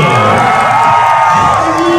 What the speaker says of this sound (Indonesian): beri tepuk tangannya bagi tetangga dengan kita, Kabupaten Muara Enim.